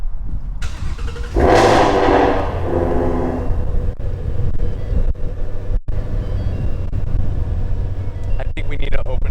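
A 2020 Ford Shelby GT350R Heritage Edition engine cranks and catches with a loud surge that settles into a steady idle rumble, with someone speaking over it.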